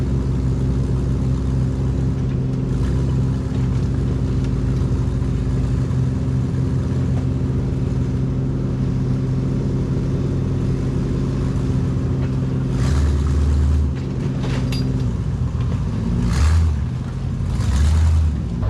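Off-road buggies and trucks grind through rough terrain with steady low engine rumble, with several sharp revving bursts near the end, loud and close throughout.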